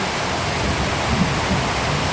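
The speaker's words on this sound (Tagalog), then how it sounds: "mapupuno tong swimming pool ng tubig" Water rushes steadily into a backyard swimming pool as rain fills it, a constant loud broadband splashing hiss with no pauses and no talking.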